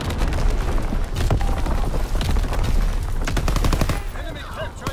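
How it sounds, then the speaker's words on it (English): Artillery blasts and rapid gunfire fill a WW2 video game battle, with dense, continuous bursts of shots and booms and game voice callouts heard under the action. "Incoming enemy artillery."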